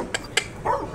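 Two short, sharp dog yips close by, followed by a brief higher whine, with no talking.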